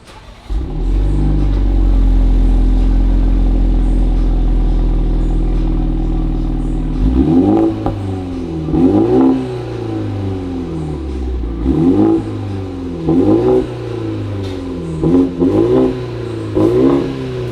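A BMW 430i convertible with a retro-fitted AWE exhaust holds a long, loud, steady drone for several seconds, then barks through a series of sharp, rhythmic revs close by.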